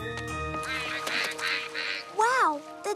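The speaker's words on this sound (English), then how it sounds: "the ducks are having fun in the rain" Cartoon ducks quack in the rain, a series of bright, close quacks with a prominent long quack near the end over light background sound.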